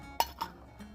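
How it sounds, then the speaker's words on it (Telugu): A bowl is set down in a quiet kitchen, giving two quick, faint clinks a moment apart, followed by a softer knock. "మనం ఒక గిన్నె పెట్టుకుందాం."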